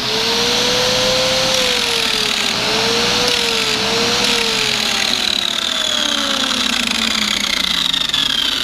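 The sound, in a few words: antique power tool running with noisy gear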